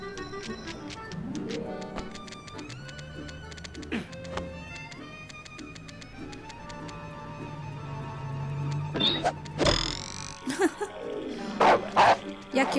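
A dog barks in the Ratatouille video game, short yips over steady game music and effects. A few louder bursts come near the end.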